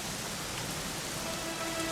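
Rain falls steadily in the fantasy role-playing video game Dragon Quest XI, a soft, even wash of patter with no other sounds over it.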